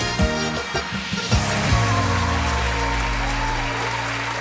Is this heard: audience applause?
yes